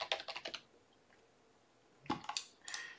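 Quick typing on a computer keyboard, two short bursts of crisp close key clicks separated by about a second and a half of near silence, no voices present.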